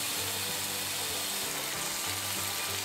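Spice paste sautéing with spring onion in a pan, a close steady sizzle and crackle of frying, moderately quiet and continuous, with no voices.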